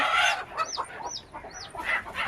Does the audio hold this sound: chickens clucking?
yes